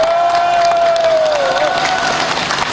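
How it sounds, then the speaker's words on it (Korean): Crowd at a campaign launch rally in Icheon applauding and cheering steadily, with a sustained whistle or voice tone carried over the noise throughout. "동의하시면 여러분 박수 한번 주세요."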